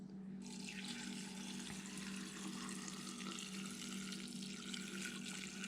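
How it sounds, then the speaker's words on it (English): Water pours steadily over about 200 grams of hot peppers to cover them for fermenting into hot sauce, a continuous close, even rushing splash with no break. "now we're going to add some water to this."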